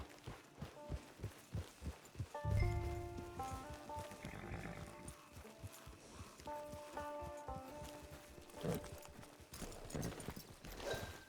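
Horse hooves clip-clop in a steady walking rhythm in Red Dead Redemption 2, set under game music with sustained tones and occasional swells.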